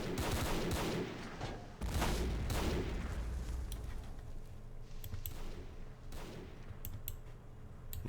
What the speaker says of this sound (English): As long as the machine gun keeps firing, I think we're holding this position.